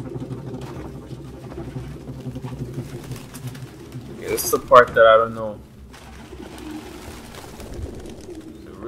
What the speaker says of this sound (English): A lot of birds.